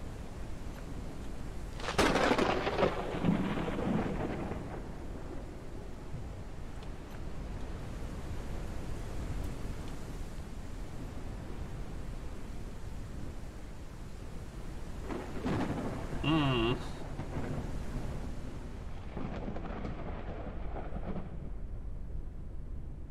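A thunderstorm in the video game Forever Skies, with loud rolling thunderclaps near the start and again around the middle over a steady wash of rain and wind, and no voices.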